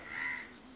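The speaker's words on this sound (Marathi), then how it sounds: "कावळा" A single crow caws in a short, fairly clear call, rising and fading over less than a second against a quiet background.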